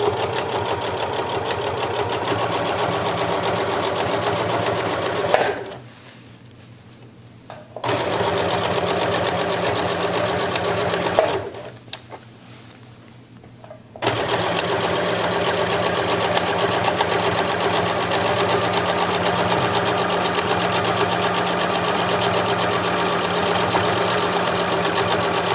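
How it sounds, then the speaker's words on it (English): A sewing machine stitches steadily along the edge of fabric for a reversible shoulder bag, a continuous close mechanical whir that stops twice briefly and then resumes. "just keep the edge of your presser foot riding right along the edge of that fabric"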